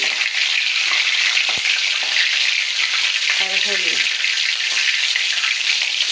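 A pricked egg sizzles loudly in hot oil, a continuous close frying hiss with a brief clink and a short murmur of voice midway.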